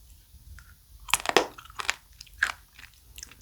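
Crunchy chewing of mideodeok (sea squirt) sashimi, with a cluster of loud, close crunching bites in the middle and a few scattered softer crunches before and after.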